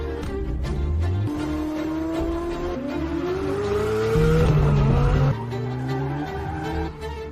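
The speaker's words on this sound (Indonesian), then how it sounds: "Aku tak salah lihat kan, mobil latihan itu sedang drift." A training car drifting, its engine revving and tires squealing in long rising and falling screeches, loud and close, with a brief louder surge in the middle and no talk over it.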